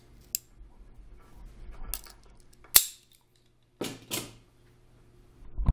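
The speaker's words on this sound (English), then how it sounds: "Cut the plug end off of your cable, and with what's left, expose the wiring." Sharp snips from cutters severing the plug end off a cable, several isolated crisp clicks and cuts spread over a few seconds against near silence, close up.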